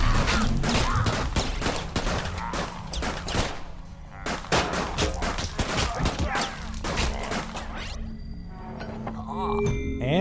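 Gunfire in the video game Utopia 9, rapid repeated shots in dense bursts for most of the clip, loud and close, with metallic clinks and game effects toward the end.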